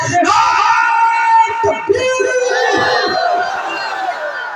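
A large crowd at a religious gathering in Faridpur, Bareilly, with both hands raised, shouts back a slogan loudly in unison, a roaring chorus of voices swelling and fading.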